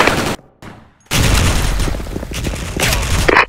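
Grenade blasts and gunfire in a first-person shooter game, with loud booming bursts and rapid crackling shots in quick succession, close and dense.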